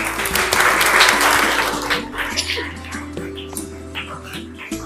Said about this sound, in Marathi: अलीसाठी टाळ्या.